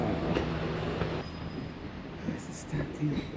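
Rail noise from a tram heading to a Mont Blanc cable car: a steady rumble with soft clicks and a brief faint squeal, heard up close and moderately quiet, without speech.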